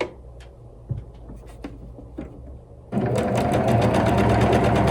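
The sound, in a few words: sewing machine sewing quilt squares together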